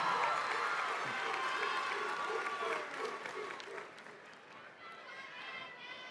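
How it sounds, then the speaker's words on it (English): A graduation audience applauds, a broad wash of many hands clapping that fades gradually toward the end, with voices mixed in and an announcer speaking over it. "please give your village a thunderous round of applause"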